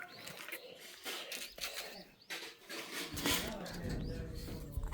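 Pigeons coo softly in low, rolling murmurs amid rustling and background noise, fairly close.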